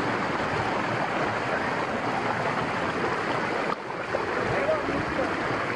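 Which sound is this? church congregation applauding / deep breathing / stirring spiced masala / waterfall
waterfall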